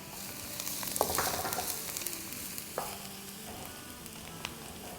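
Chopped onions and crushed green chillies fry in oil for an aloo samosa filling, giving a steady soft sizzle with a few sharp stirring clinks and scrapes near the start and middle.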